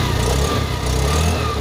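Exhaust of a 2022 Honda Dio DX scooter running steadily, a continuous close, loud low engine hum with no break.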